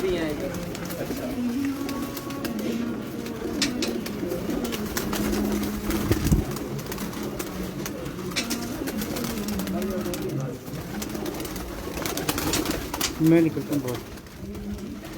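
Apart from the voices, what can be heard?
pigeons cooing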